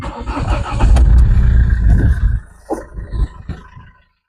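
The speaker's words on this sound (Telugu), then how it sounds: "ఒకసారి బండి ఇంజిన్ కూడా స్టార్ట్ చేసి పెడుతానండి." A 2017 Mahindra XUV500 W4 diesel SUV cranks and fires with a loud, rough roar close by, then drops to a quieter idle with a few knocks before cutting to silence.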